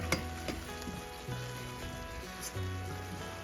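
Chicken simmers in chipotle cream sauce, giving a soft, steady sizzle and gentle bubbling with a few faint clicks and a low hum, close but quiet, with no talking.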